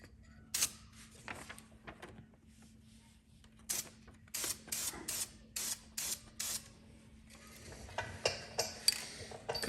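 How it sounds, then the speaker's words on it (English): Short hissing bursts of spray paint lay mist coats over the decal on a Tesla Model X 90D brake caliper, about a dozen quick, quiet puffs in uneven rhythm over a faint hum. "I'm gonna spray this over the decal to give it that extra protection"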